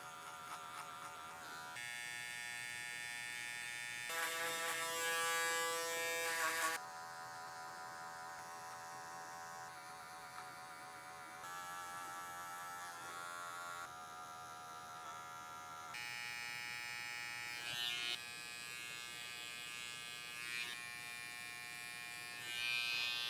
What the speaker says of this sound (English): So I'm just going to get some clipper over comb in and just ever so softly just take any harsh ends